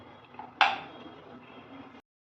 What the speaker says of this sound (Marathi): आता थोडा वेळ मीडियम गॅस करून झाकण ठेवते